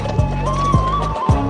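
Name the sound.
racehorses galloping at Dubai horse race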